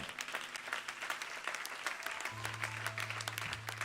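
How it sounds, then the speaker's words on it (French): A church congregation gives lively applause, with many hands clapping in a quick, dense patter. A held musical tone hums underneath, and faint voices are mixed in. "on peut acclamer le Seigneur"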